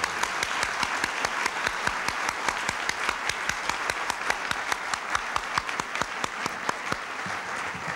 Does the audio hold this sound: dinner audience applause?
yes